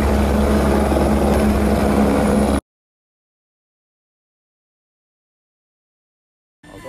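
A loud, steady helicopter rotor drone close by, then abrupt silence for several seconds before faint sound returns at the end.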